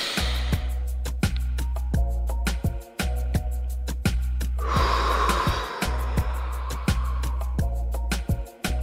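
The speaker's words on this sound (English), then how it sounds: "I'm actually gonna do in and out breaths here" Deep, audible in-and-out breathing during a stretching exercise, with one long exhale partway through, set against steady rhythmic background music with a sharp clicking beat.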